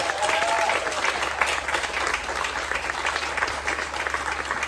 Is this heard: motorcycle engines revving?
no